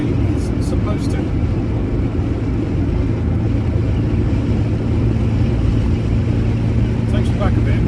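A 1983 Ferrari Mondial QV runs steadily with a constant low engine drone, loud and close, holding an even tone throughout with a few faint higher clicks near the start and end.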